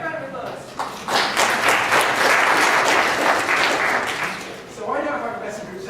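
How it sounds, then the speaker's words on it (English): Lecture audience bursts into loud, sustained applause, dense clapping from a large crowd that swells and holds for several seconds before thinning, with a short renewed burst near the end. "Give a big round of applause."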